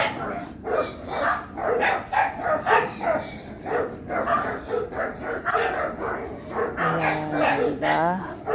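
Dogs barking repeatedly near a house, in a noisy outdoor setting. Overlapping barks sound fairly close, and a voice talks in the background.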